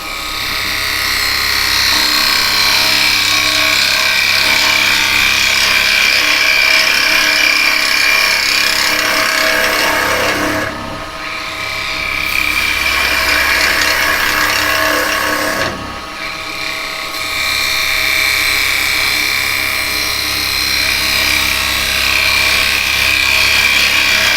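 Yew wood spins on a woodturning lathe while a half-inch gouge cuts it, giving a loud, continuous whirring scrape up close, with two short dips where the tool lifts off before cutting resumes.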